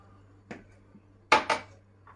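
Two eggs are cracked against a bowl for homemade baklava batter: a light tap, then a sharper double knock on the rim, each a brief, crisp crack close up, over a faint steady hum.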